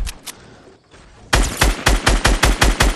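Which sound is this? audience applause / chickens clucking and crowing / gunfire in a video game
gunfire in a video game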